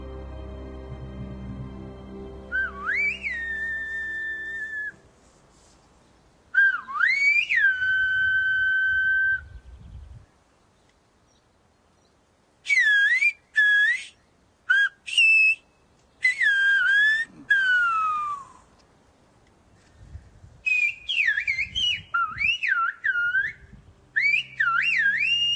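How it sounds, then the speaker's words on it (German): Silbo, the whistled language of La Gomera, heard as sharp sliding whistled phrases in separate bursts with pauses between, clear and fairly close, over faint background noise. "Der Silbo, die Pfeifsprache der Guanchen, hat auf La Gomera wohl deshalb so lange überdauert"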